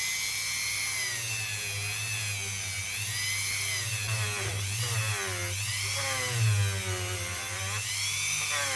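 A Dremel rotary tool cutting an Alaska state quarter while turning the coin into a ring, a steady high whine with shifting pitch that carries on continuously for the whole stretch, loud and close with no talk.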